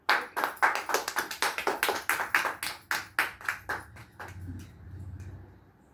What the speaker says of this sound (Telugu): Clap clap clap.